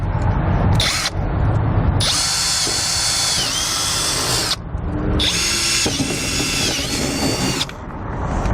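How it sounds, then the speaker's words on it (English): Power drill boring holes through a plastic tow bar deflector for a 2018 Jeep Wrangler JL, loud and close, in several sustained whining runs broken by short pauses, with no talking. "we're going to drill 6 holes to connect our 2 center section pieces together"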